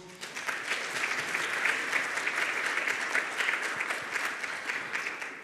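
Sustained audience applause fills a conference room at a Namibian public-private forum, a steady dense clatter of many hands clapping at even loudness throughout, with no talk over it.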